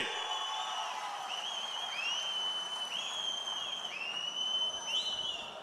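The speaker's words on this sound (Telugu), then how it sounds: "గట్టిగా చప్పట్లు కొట్టి మీరు కూడా ఆమోదించండి" A large rally crowd cheers and whistles loudly, a steady wash of voices with sweeping whistles and whoops throughout.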